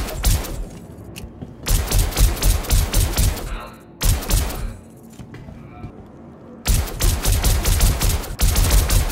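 Bursts of rapid automatic gunfire in the Star Citizen video game, loud volleys broken by short pauses, with a faint voice in the background.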